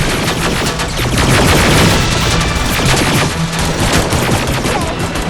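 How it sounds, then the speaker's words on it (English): Dense, continuous gunfire in the video game Terminator: Resistance, rapid overlapping automatic bursts and impacts filling the whole stretch at high loudness, with no pauses. "Under heavy fire!"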